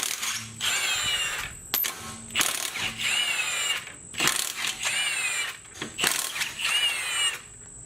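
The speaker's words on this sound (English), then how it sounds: "this high torque Milwaukee impact gun is just perfect" A high-torque Milwaukee impact gun with a 17mm socket hammers at rusty sway bar link nuts on a Mercedes W209 CLK 500, loud and close, in several repeated rattling bursts separated by short pauses.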